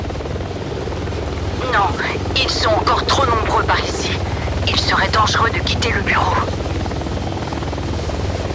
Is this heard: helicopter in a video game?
yes